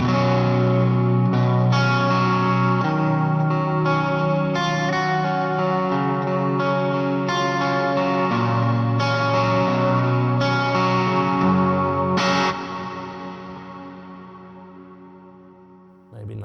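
An electric guitar runs through a VANGOA pedalboard with modulation and an analog drive, giving a thick, shimmering, lightly distorted sound. Chords and lines are strummed continuously for a long stretch, then cut off abruptly near the end. The playing is loud and close.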